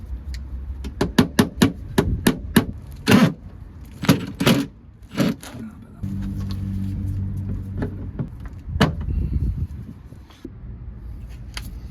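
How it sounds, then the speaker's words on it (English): A run of sharp, close hammer blows on an E36 car part in an uneven rhythm, pausing for a stretch of steady low droning noise before a few more strikes. "Try and hammer this one on."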